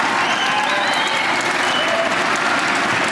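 A live audience bursts into sustained, dense applause at a talk by Bishop Barron, steady and loud across the whole stretch with no pauses.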